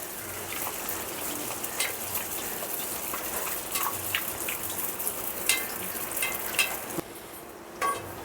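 Bhatura dough frying in hot oil gives a steady, close sizzle and bubbling hiss with a few sharp utensil clicks, continuing for several seconds with no talking.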